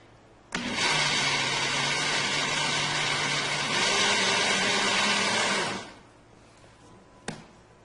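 A kitchen blender mixing cocoa powder switches on abruptly and whirs loudly and steadily for about five seconds. Its pitch shifts slightly partway through before it winds down, followed by a single sharp click.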